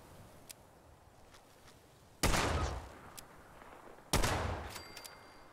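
Pistol shots in the video game Fallout 76: two sharp, loud broadband cracks a couple of seconds apart, each trailing off in a short decay over a low background hum, with no talking.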